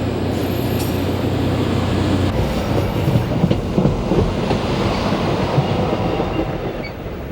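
A train rushes past on the Northeast Corridor four-track main line with a loud, steady roar and rapid clickety-clack of wheels over rail joints, sustained throughout.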